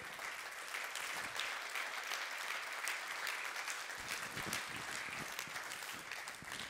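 Audience applause in a room full of people, a dense, steady clapping that holds at an even level from start to finish with no clear voices over it.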